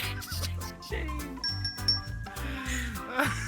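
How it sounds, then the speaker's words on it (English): Bell chiming in the Minecraft video game, a few bright tinkling rings standing out faintly over game music. "Oh no, not the bell."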